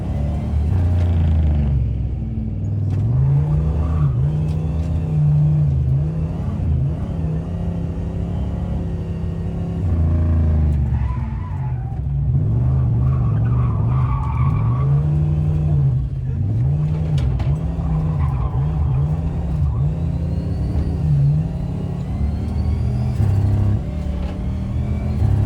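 A turbocharged V8 police car, a Dodge Diplomat sheriff's cruiser, runs wide open on a race track, its engine holding a loud, continuous rumbling drone with rising and falling revs throughout.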